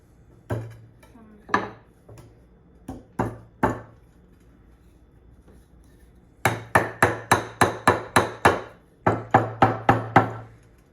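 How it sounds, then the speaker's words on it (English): Sharp knocks of a wood block striking a metal screwdriver, a few spaced strikes followed by a fast run of eight or so hard, ringing blows, then several more. "use it as a hammer to hammer the screwdriver in"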